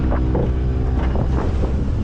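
Wind gusts across a fishing boat far out at sea, a constant loud roar buffeting the microphone, with a low hum running underneath.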